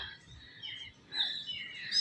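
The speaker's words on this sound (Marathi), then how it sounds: "चिमण्या बसले ते ओरडत कितीतरी चिमण्या आहेत" Faint, scattered high chirps of small birds, sparrow-like, twittering in short bursts at a distance.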